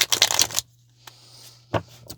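A quick riffle of shuffling cards, a dense papery burst lasting about half a second, followed by a quiet pause and a couple of soft taps.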